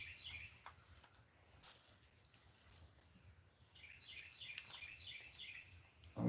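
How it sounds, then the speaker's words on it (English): Birds singing outdoors, faint high chirping phrases near the start and again in a denser burst later, over a quiet background with a low rumble. "Did you guys hear the birds?"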